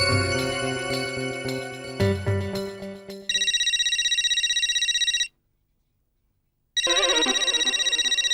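A telephone rings in a Hindi sitcom household scene with a loud repeating electronic ringtone, steady bursts broken by a short silence before resuming, following a stretch of music.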